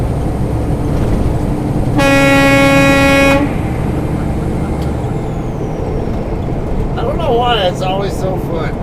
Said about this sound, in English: It's a good place to pre-trip my air horn.